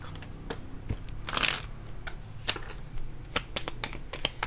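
Oracle card deck being shuffled in short bursts of crisp riffling and flicking card clicks, close and moderately loud, with no talking over it.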